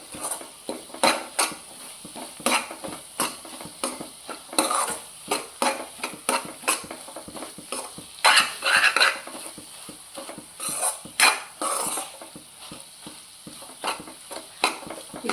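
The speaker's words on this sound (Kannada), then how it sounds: "ಎಗ್ಗೆಲ್ಲ ನೀಟಾಗಿ ಬೇಯಬೇಕು ಜೊತೆಗೆ ಒಗ್ಗರಣೆ ಜೊತೆಗೆ ನೀಟಾಗಿ ಹೊಂದ್ಕೊಳ್ಬೇಕದು ಅಲ್ಲಿವರೆಗೂ ಆಡಿಸ್ಕೊಳ್ಳೋಣ ಚೆನ್ನಾಗಿ" Egg and leftover chapati pieces stirred in a pan with tempering, a spatula scraping and clacking in quick irregular strokes over a soft frying sizzle, close and without talk.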